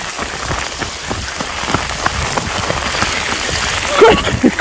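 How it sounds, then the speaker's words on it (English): Heavy rain pouring down in a forest area near a viaduct in Galloway, a dense, close patter and splatter hitting surfaces continuously, with a few brief sounds near the end. "it's literally pissing it down. I mean, raining"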